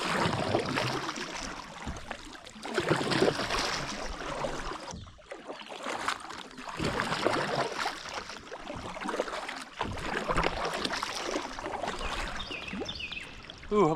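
A kayak is paddled along a Tennessee creek, with rhythmic splashes and water swirling as the paddle strokes dip in and pull through, close and fairly loud. A short lull falls midway, and there is no talking.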